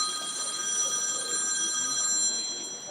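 A telephone rings with a steady high electronic bell tone that holds for the whole stretch, fairly loud, with faint background chatter underneath.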